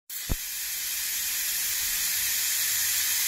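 A pressure cooker cooking rice vents steam in a sharp, continuous hiss that starts abruptly after a brief thump and holds steady and fairly loud, alone with no voices.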